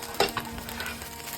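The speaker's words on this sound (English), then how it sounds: "I'm going to just place these in and allow them to get a little bit of brown char on either side" Broccoli pieces sizzling in a pan with extra virgin olive oil, a steady low hiss with a couple of sharper crackles and bursts near the start as they are placed in, no talking.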